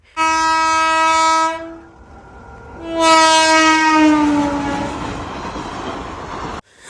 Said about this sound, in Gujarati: આવી ગઈ ટ્રેન ટ્રેન જોઈ લ્યો તમે